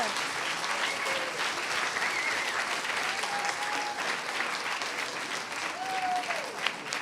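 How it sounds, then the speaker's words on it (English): Loud, continuous clapping from a storytelling event audience welcoming a storyteller to the stage, an even wash of applause lasting about seven seconds with faint whoops mixed in. "Please welcome, with a big round of applause, Patrick Barnes, everyone."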